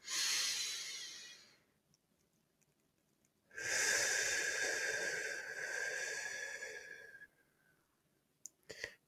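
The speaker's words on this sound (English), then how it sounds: "So let's do a couple of breaths together." Slow, deep breathing exercise led by one person: a long airy breath, a pause of near silence, then a longer, fuller breath drawn and released, close and soft, ending with a couple of small clicks.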